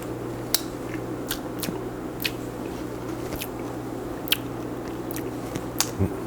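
Close chewing and biting while tasting a homemade smoked fish dip with jalapenos, with irregular wet clicks and squishy mouth sounds over a steady low hum.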